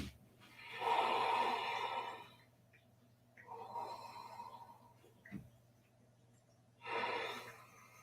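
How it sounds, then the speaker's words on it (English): Slow, soft exhales through the nose in a restorative yoga class, three airy breaths spaced a few seconds apart, close and quiet with a faint steady hum underneath. "Exhale, nose."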